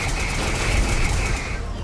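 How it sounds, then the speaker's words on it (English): Rapid, continuous gunfire from weapons in Robocraft, on a Tier 4 snowmobile, rattles out as a dense, loud burst with no pause. "those guns sound ridiculous"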